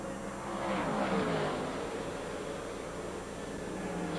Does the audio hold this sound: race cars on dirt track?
yes